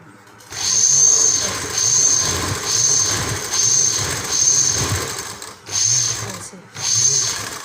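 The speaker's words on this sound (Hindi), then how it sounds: "इस तरह से हम कपड़े को ऐसे सिलाई लगाएंगे।" Sewing machine stitching pant cloth in bursts of rapid mechanical whirring and clatter, about seven runs separated by short pauses, close and fairly loud, with talking in between.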